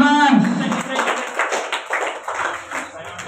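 A group of people claps hands together in a short burst at a school gathering, steady and close, with voices talking over the clapping.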